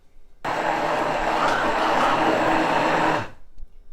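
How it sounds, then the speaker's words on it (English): An immersion blender whips cream for a flourless chocolate cake, a loud steady motorized whir that starts abruptly, holds for about three seconds, then winds down and stops. "So now we're going to use the immersion blender because it makes it a little bit thicker whipped cream"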